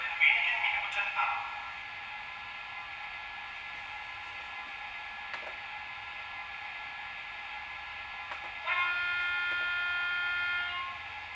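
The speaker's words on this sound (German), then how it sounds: "Der Zug fährt jetzt ab." A Märklin model train departs on a winter layout with a continuous hissing rumble, a brief whistle-like tone near the start, and a brighter sustained tonal passage toward the end.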